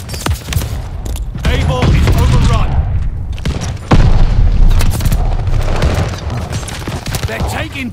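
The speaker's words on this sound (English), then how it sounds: "Friendly mortar fire coming." Mortar fire in the video game Call of Duty: Vanguard, repeated heavy booms and blasts mixed with gunfire and radio-style voices talking over the chaotic battle noise.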